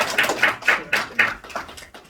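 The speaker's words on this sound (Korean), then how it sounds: "박수로 한번 힘차게." Bursts of applause at a church founding service, a brief spell of clapping with several swelling pulses, moderately loud and without voices.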